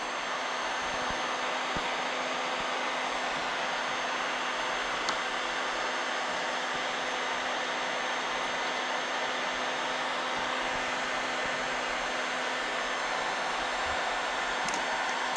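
A heat gun blows on plastic interior trim during a 90s OBS truck build, giving a loud, steady, even whooshing roar that runs unbroken from start to finish.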